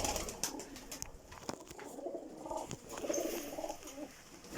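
High-flying breeding pigeons coo repeatedly at close range, soft throaty calls rising and falling over a busy loft background with scattered sharper noises and no talk.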